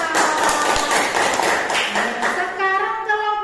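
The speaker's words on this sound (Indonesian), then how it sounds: "Tepuk tangan untuk kelompok A." Students in a classroom clap for a group after a history lesson answer. The applause is brisk and crowded for about two and a half seconds, then thins out as voices take over.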